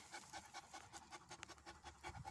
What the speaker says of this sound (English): You hear her panting?